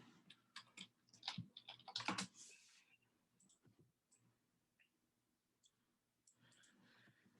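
Rapid clicking keystrokes on a computer keyboard, a dense burst of typing early on, then sparse, quieter single key taps and clicks, close and alone with no talk.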